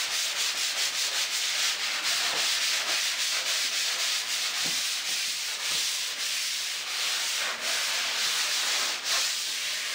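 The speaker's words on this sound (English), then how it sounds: "We're just sanding this right here." Drywall joint compound is sanded by hand in steady back-and-forth strokes, a continuous loud rasping scrape close by with a regular stroke rhythm.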